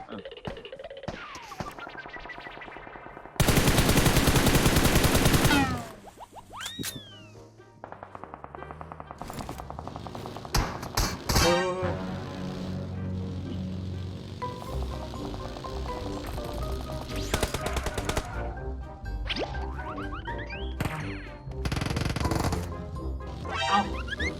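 Video game gunfire in PUBG Mobile, with a loud sustained automatic burst early on, followed by scattered shots, impacts and other game effects at varying loudness.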